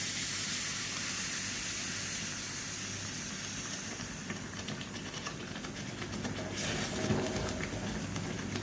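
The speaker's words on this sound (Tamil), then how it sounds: "இப்போ இந்த கல்லில் தண்ணி ஊற்றிக்கலாம்" Water poured onto a stone heated over a high stove flame while cooking biryani, giving a loud, steady hiss of steam that carries on throughout with slight surges.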